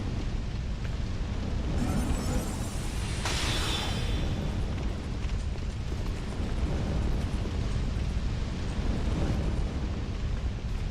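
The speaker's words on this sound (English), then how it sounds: "Did you hear some explosions?" Explosions in the video game Dark Souls 2, a dense rumbling roar with a sharper burst partway through, loud and sustained throughout with no talking over it.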